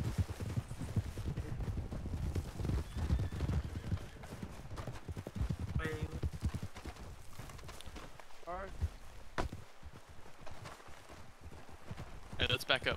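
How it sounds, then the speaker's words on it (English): Hooves clip-clop on hard ground, drawing nearer, with people talking over them and a horse briefly whinnying. "Horse is coming."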